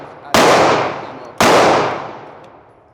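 Two loud, sharp pistol shots from a Glock 40 Gen4 firing bronze ammo, about a second apart, each bursting out and ringing off in a long decaying echo with no talk.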